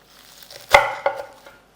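A knife chopping fresh purple basil, green onion and dill finely on a board: a few sharp, close knocks, one strong and a couple lighter, in a quiet room.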